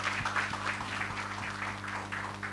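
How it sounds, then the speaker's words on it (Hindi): An audience at the Border 2 tribute trailer launch claps softly, a faint, somewhat distant patter of applause over a low steady hum. "इस बात के लिए तालियां बजाई जाएं पहले तो।"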